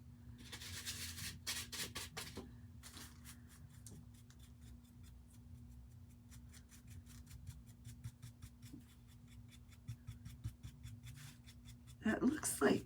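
Stain is rubbed onto a Dollar Tree DIY Christmas craft piece with repeated scratchy rubbing strokes, close and soft, under a faint steady hum, with a louder burst of handling near the end.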